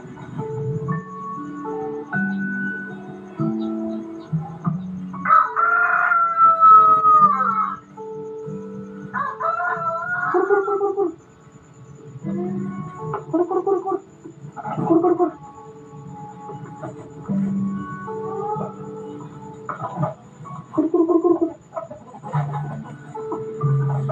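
Chickens clucking and crowing close by while being fed organic scraps, a busy overlapping flock chorus with repeated rooster calls and cackles throughout.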